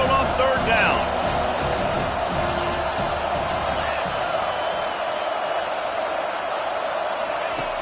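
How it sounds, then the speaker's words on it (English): A home football crowd roars throughout a 3rd-down defensive stand, a dense, loud cheer with whoops under a commentator's continuous play-by-play voice. "Here comes this home crowd as the defense tries to get off the field on 3rd down"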